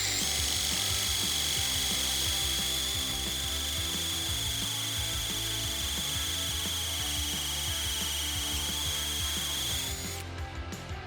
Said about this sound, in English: Here I'm using a drill to cut the extra material out to allow the dual valve springs to set flat in the head